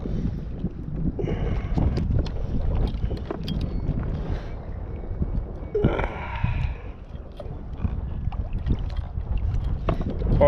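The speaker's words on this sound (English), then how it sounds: "The wind's gonna blow me in the rocks." Wind blowing while out kayaking on a new kayak path between Metairie and Bucktown, a steady rough buffeting across the microphone with water and paddle knocks mixed in and brief faint voice fragments.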